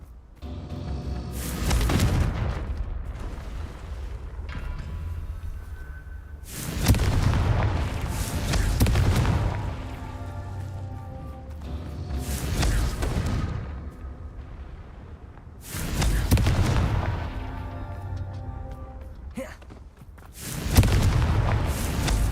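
Confringo spell explosions in the Hogwarts Legacy video game, four loud booming blasts spaced several seconds apart, each with a rumbling decay, no talk.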